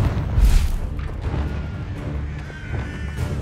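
Confringo spell blasting in Hogwarts Legacy on PC: a heavy boom right at the start, followed by rumbling low impacts and scattered bursts of combat noise that continue through the rest of the short stretch.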